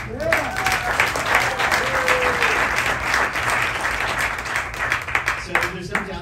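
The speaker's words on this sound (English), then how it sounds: "Let's give a round of applause." A round of applause from an audience at a Berkeley civic address, dense clapping sustained for about six seconds with a few cheers and voices mixed in.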